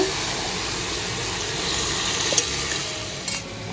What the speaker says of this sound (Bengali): মাংসটা দিয়ে দিয়েছি, এবার এটা কষিয়ে সেদ্ধ করে নেব